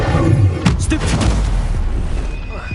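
Stupefy stunning spell cast in Hogwarts Legacy: a few sharp magical bursts and crackling impacts stacked over a dense, continuous game soundscape, loud and close.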